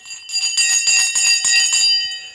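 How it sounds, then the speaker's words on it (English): A stock market closing bell ringing loudly and close, a rapid continuous metallic ringing that lasts about two seconds, with no talking. "Right, the bell has just gone."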